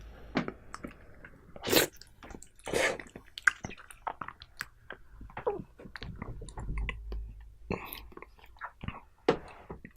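Close, wet chewing and squishing of soft whole durian flesh, with smacking clicks and bursts of breath, alone and loud near the mic.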